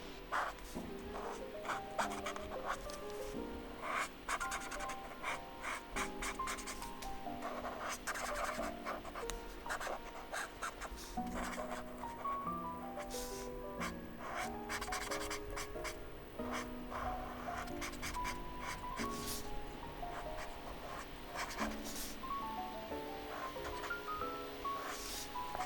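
A purple pencil scratches and scribbles across paper in close, continuous strokes, faint rubbing and skittering under light background music, with no voices.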